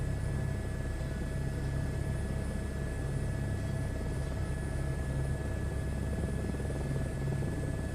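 Helicopter holding a hover near a landing zone in Microsoft Flight Simulator 2024, a steady, even rotor and engine drone with deep low rumble that stays constant and loud throughout, with no voices.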